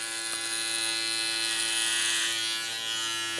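Electric hair clipper with a 1/4-inch guide running steadily while cutting hair at the top of a head; a continuous close buzz with a high whine, no talking.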